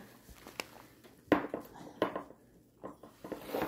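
Cups and dishes clink and knock a few times, with sharp close taps spaced irregularly over quiet room noise as someone handles them while drinking water.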